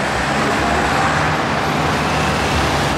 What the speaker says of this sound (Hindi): यहाँ पे ट्रैफिक निकल रहा है